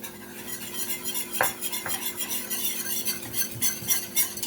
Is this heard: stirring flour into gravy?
yes